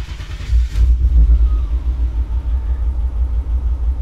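A BMW E30 found abandoned in a forest starts and settles into a rough idle: a loud cranking burst and catch in the first second, then a steady, close, low engine rumble with no talking.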